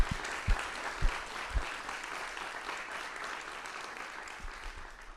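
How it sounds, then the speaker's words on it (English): An audience at an innovation awards keynote applauding, a broad steady roar of many clapping hands with a few low thumps early on, sustained and moderately loud. "Let's give a round of applause to all these people that helped make this possible."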